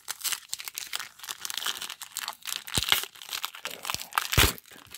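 Foil wrapper of a 2016 Topps Series 1 baseball card pack being torn open and crinkled by hand, a dense run of close, sharp crackles and rips with a couple of harder snaps.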